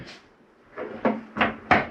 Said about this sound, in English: Shower door. Bring it all the way to your left.